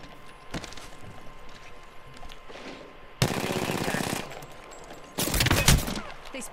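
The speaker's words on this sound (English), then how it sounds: "I'm taking shots." Rapid automatic gunfire in a video game erupts in two loud, dense bursts of about a second each, separated by quieter stretches with a few scattered shots.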